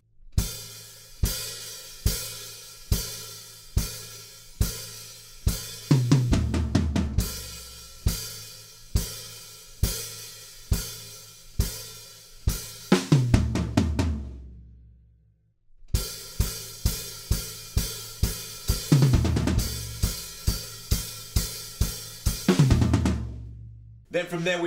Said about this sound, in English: we're gonna break it down to just kicks and hi-hat